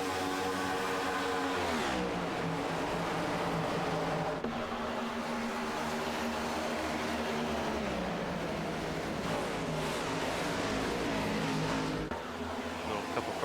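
Race cars in a video game oval race roar continuously at high revs, layered engine drones rising and falling through the turns with no break.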